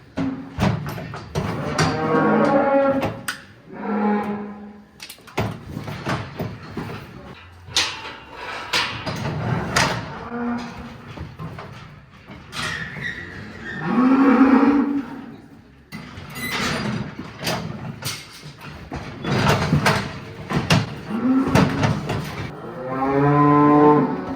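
Cattle on a farm moo repeatedly, loud and close, with several long calls in a row and some clatter between them, while they are moved out toward a field.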